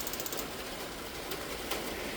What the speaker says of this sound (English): That's the sound of rain on the roof here.